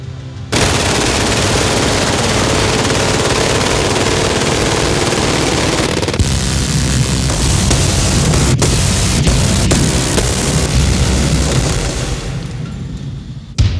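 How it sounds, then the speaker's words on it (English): Machine guns roar in sustained full-auto bursts, a dense, loud, continuous barrage of gunfire that runs nearly unbroken, with a few sharp cracks standing out near the end. "We'll be showing and shooting the widest array of machine guns ever assembled"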